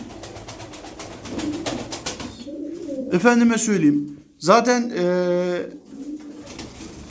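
Pigeons of the Miski and Nuhudi breeds coo in Darıca, two drawn-out, throaty calls in the middle of the stretch over a steady background bustle, with someone talking throughout.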